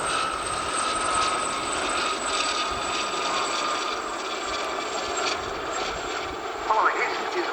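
Four-aircraft display at the RAF Cosford air show, a continuous loud rotor and engine drone with a chopping, mechanical texture that holds steady with no talk over it.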